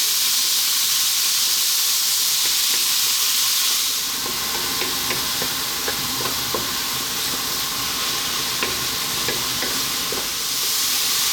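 Curry leaves sizzle and splutter in hot oil in a pan over above-medium heat for a prawn curry, a steady loud hiss with sharp popping crackles bursting in after a few seconds and continuing throughout.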